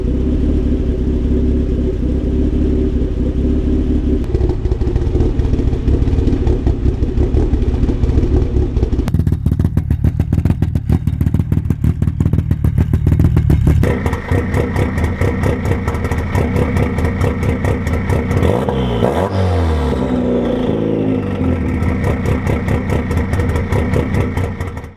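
A turbocharged Mazda Miata engine idles on a lumpy Ghost Cam tune, running loud and close with a steady choppy rumble whose pitch and texture shift partway through, no voices over it.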